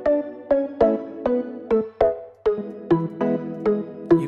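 Three layered synth plugins in Logic Pro X play a pop keys riff together, a bright rhythmic chord pattern of repeated short stabs with a brief gap midway, loud and upfront.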